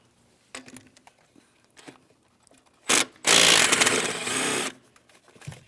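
A power tool backing out the upper intake plenum mounting bolts on a 2015-2025 Ford Transit 250 3.7L V6, with a short burst, then a longer loud whirring run, amid faint clicks of tools and hardware.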